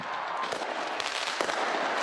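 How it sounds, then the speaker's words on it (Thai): New Year fireworks in New Zealand crackle and pop continuously, a dense wash of distant bursts and sharp cracks with a few louder reports, no speech over it. "เห็นไหม เขายิงพลุไปแล้ว"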